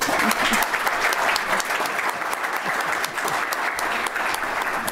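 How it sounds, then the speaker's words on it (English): Audience applause for panelists at the end of a social media panel session, a loud, thick and steady burst of clapping from a crowd throughout. "I would love to give a round of applause to our panelists"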